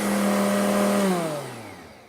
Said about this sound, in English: You can pulse over here or turn it on full speed for as long as you want over here.